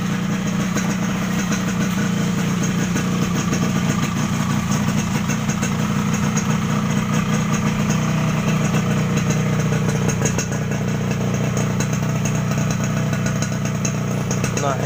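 An old Yamaha RX King motorcycle idles close by, its engine a steady, continuous putter with a slight uneven wobble, loud and unbroken throughout with no other sounds over it.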